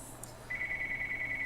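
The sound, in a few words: telephone ringing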